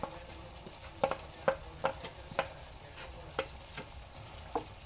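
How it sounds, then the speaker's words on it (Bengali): A spoon stirs a thick chutney of dates and dried mango in a pan, giving a series of distinct scraping knocks, about eight strokes at uneven intervals over a soft background sizzle. "দিয়ে ভালো করে নাড়াচাড়া করে আবার ঢেকে দেব।"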